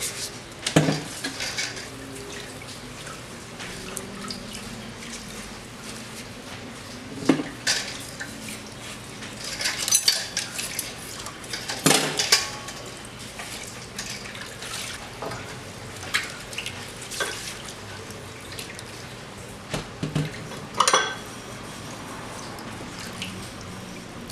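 Cutlery clinks and clatters while being washed at a kitchen sink with a running tap, with scattered sharp metallic knocks and splashes over a steady water hiss and no talk.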